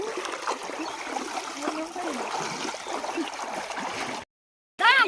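Water of the Buri Teesta river flowing and trickling steadily at close range, a continuous broadband wash with faint voices beneath, briefly cutting out near the end before resuming.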